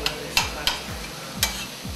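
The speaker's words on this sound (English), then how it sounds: "Keep turning the sprouts, sauteing them through, get the heat through them, just to cook them." Brussels sprouts and bacon sautéing in a pan, with a soft frying sizzle underneath and four or five sharp scrapes and clacks of a utensil stirring against the pan, close up and with no voices.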